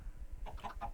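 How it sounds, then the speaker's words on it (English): A Minecraft chicken clucks quietly in a chicken farm, giving a quick burst of two or three short clucks over a low background rumble. "we're starting to see chickens now hatching"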